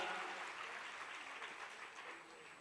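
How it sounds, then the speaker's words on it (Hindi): Audience at a satsang devotional gathering applauding, a steady dense wash of clapping that holds throughout, fairly loud and close, with no voices over it. "बजाइए, खुल के बजाइए तालियां"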